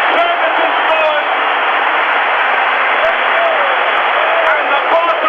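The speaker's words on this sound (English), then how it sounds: "the Barcelona crowd are rising to them and applauding" A Barcelona stadium crowd applauds and roars steadily after a Dundee United goal, a dense, continuous wall of clapping and cheering that runs throughout.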